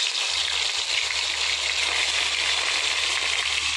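Pieces of taki fish coated in salt and turmeric fry in hot oil with a loud, steady, broadband sizzle that holds evenly throughout, close up and without talk.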